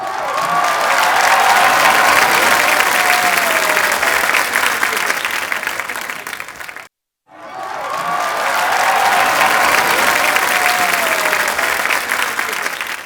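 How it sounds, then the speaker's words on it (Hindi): A studio audience at a TV comedy talk show gives loud, sustained applause with some cheering. A brief cut to silence midway splits it into two long bursts. "तो इनके लिए तालियां हो जाएं भरपूर"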